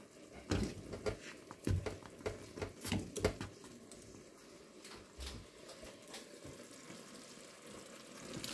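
Mushroom ciulama cooking in a pot on the stove, a low bubbling simmer and sizzle with scattered pops and clatters, louder in the first few seconds and then settling into a quiet continuous crackle.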